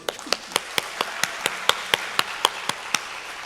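A few people clap slowly and evenly in a church during an autumn early-morning revival service, about a dozen sharp, distinct claps close to the microphone, with no talking.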